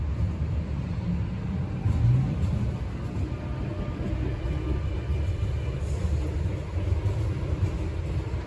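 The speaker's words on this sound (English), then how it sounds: "this train behind me is the M set" A Sydney Metro M set train at the Olympic Park shuttle platform produces a steady low rumble and hum at close range, continuous with no talking.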